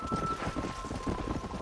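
A horse gallops in the Red Dead Redemption game, a rapid continuous drumming of hooves, close and steady, over a faint sustained tone.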